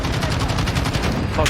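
Rapid automatic gunfire from an enemy sentry gun in Call of Duty Modern Warfare, a dense, loud, steady burst of shots that runs through the whole moment.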